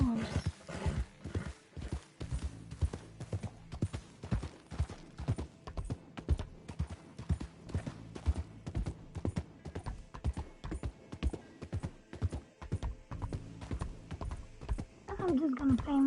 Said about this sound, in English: That's right, this is my horse.